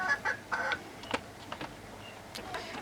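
Confined, fast-growing Chinese-breed chickens on a small farm give short, scattered clucks at close range, separated by quieter gaps over a faint background.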